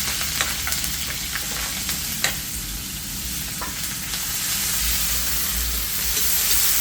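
Onion and pepper sizzle steadily in hot oil in a pot on an outdoor backyard cookfire for a Guyanese crab curry, a continuous frying hiss with occasional sharp pops and crackles, close and fairly loud, with no talking.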